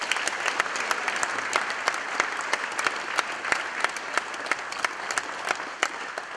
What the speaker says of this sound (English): So one more round of applause for my dad.